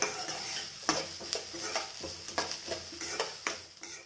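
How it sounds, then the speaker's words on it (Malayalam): Onion, ginger and green chili sautéed in a pan for vegetable oats upma, a soft sizzle under repeated spatula scrapes and clinks against the pan, fairly quiet and close, no talking. "അതുപോലെ ഒന്ന് വഴറ്റിയെടുക്കാം."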